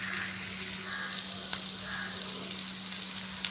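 Ridge gourd sautéing in a pan for chutney, a close, continuous hissing sizzle with soft stirring scrapes and an occasional light clink of the spoon.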